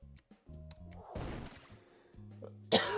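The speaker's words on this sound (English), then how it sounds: "And then I had to cough." A single sharp cough bursts out near the end, loud and close, after a stretch of quiet low rumbling and a brief noisy rustle.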